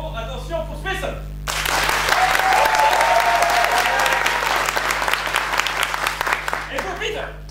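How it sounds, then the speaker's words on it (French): A theater audience at a Toulouse improv festival bursts into sustained, loud applause to rate a performer, with voices heard briefly before it starts and as it tapers off. "vous allez faire l'applaudimètre pour nos deux héros"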